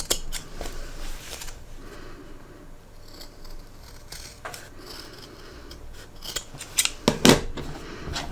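Close scissors trim fabric at the curved corners of a sewn art case. They make a series of crisp snips with light rustling of cloth between cuts and a sharper cluster of cuts near the end.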